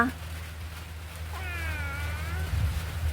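A domestic cat meows once in a drawn-out, wavering cry at close range, set over a steady low hum and room noise.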